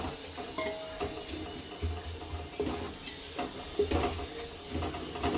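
Ingredients being stirred into ghee in a pan for dry date and coconut ladoos, giving a steady scraping and clinking of a spoon against metal with faint sizzling, close and moderately quiet, with no voices.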